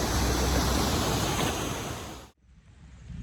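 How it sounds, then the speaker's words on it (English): A waterfall and small river in the Colombian countryside rush as a loud, steady broadband roar that cuts off abruptly near the end, leaving a faint background hiss. "But then I came across this beautiful waterfall and this nice little river."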